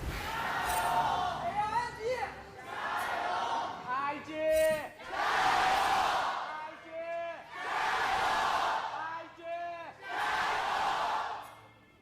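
A large esports arena crowd at an LPL League of Legends match chants and cheers for iG in loud, rhythmic repeated waves, with commentators talking over it.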